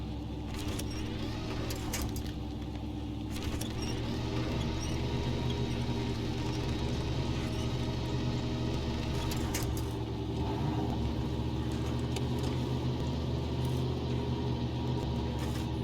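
A truck engine in the SnowRunner video game revving in a higher automatic gear while the vehicle digs itself into deep mud, a steady low droning rumble with scattered clicks and rattles throughout, and no talk.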